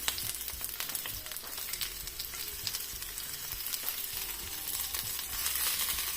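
Pointed gourd (parval) and other vegetables fry in oil on a dosa pan, a dense continuous sizzle with crackling pops and occasional stirring scrapes, close and steady, with no talking.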